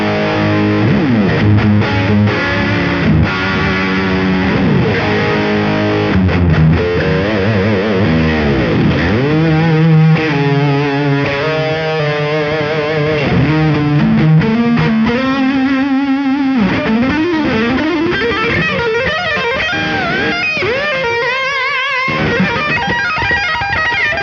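An electric guitar played through the overdrive side of a Gemini pedal gives thick, saturated, sustained chords and bends, loud and continuous with no gaps.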